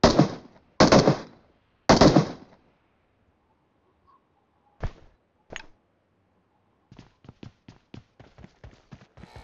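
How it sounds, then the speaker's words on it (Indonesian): Video game gunfire as people are shot: three loud, close bursts of automatic fire, then a few isolated single shots and a closing run of quicker, lighter pops. "Itu nembakin orang tuh guys."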